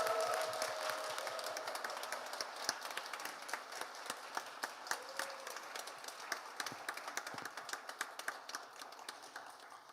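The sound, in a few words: audience applause and cheering welcoming the pastor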